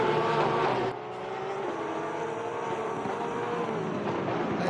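Porsche GT3 Cup race cars circling Barcelona in a racing video game, a steady droning engine whine held at moderate level with a brief drop in pitch, no talk over it.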